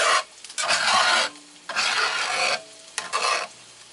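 Sausage cooks in a cast iron skillet with bursts of sizzling and scraping as it is stirred and turned. Each burst lasts about a second, with quieter gaps between them.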